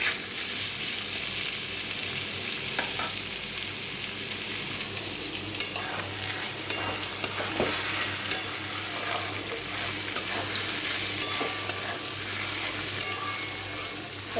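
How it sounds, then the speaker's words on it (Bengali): Vegetables frying in a pan while cooking alongside mustard hilsa and shrimp dishes: a steady, close sizzle runs throughout, broken by occasional scraping stirs and soft clicks of a utensil, with no talking. "সবজিগুলো প্রায় ভাজা হয়ে এসছে, হয়ে গেছে ভাজা"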